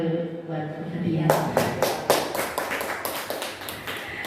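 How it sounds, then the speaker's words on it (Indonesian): An audience at a positive school culture dissemination event bursts into applause after a moment of quiet, with clear, separate claps building into a fairly loud round of clapping that fills the room. "Boleh beri tepuk tangan dulu buat hadiah"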